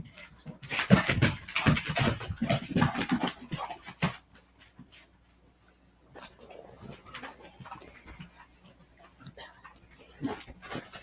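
A wet dog pants and whimpers close by in a burst of loud, quick breathing, then quieter whines and snuffles follow, with a person talking now and then.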